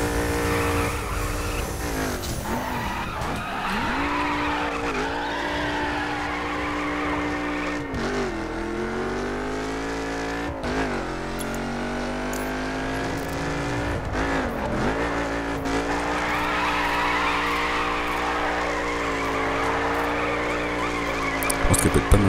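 Car drifting in a racing video game, a loud continuous engine whine rising and falling through gear changes, with long tire squeals as the car slides through corners, steady and close throughout.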